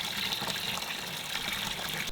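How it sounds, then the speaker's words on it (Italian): Compost tea flows into the water return tank of an aquaponic setup, where fish tank water feeds garden plants; a steady, close, rushing pour runs without a break and without talk. "Il tè di compost lo inseriamo nella vasca di ripescaggio dell'acqua"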